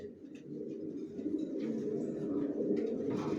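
Steady low cooing from racer pigeons in a loft, continuous and fairly close, with soft rustling and faint background noise throughout.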